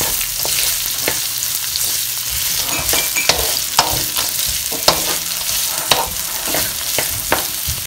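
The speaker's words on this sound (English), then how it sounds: "You have to add your onions. Make sure to stir it for 5 minutes." Onions frying in a pan while being stirred, a continuous close sizzle broken by regular scraping strokes and a few sharp clicks of the spoon against the pan, with no one talking.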